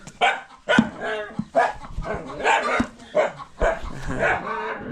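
A dog barking repeatedly and excitedly at close range, a run of loud barks and yips with short gaps between them.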